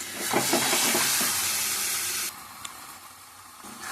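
Marinated methi chicken hits a hot pan with a loud, broad sizzle that holds steady for about two seconds, then drops to a quieter hiss with a few small pops.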